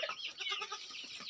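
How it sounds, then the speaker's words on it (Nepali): Goats bleat on a farm in Darjeeling where Boer, Saanen and Jamunapari goats and kids are kept, a close, loud, quavering cry repeating in quick wavering pulses with no talk. "यहाँ देख्न सक्नुहुन्छ बाख्रा पालन है।"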